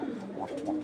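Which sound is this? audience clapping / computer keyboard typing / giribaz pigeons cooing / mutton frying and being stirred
giribaz pigeons cooing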